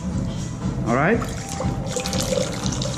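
Liquor pours from a bottle during bar pour-cut practice, a short gurgling liquid stream rising then tapering, with a person speaking briefly over it.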